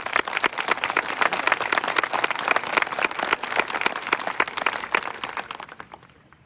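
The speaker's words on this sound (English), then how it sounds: "Let's give them a round of applause." Steady applause from a large crowd at an outdoor-style high school graduation ceremony for the class of 2020, dense rapid clapping that holds for several seconds and then tapers off near the end, with no voices.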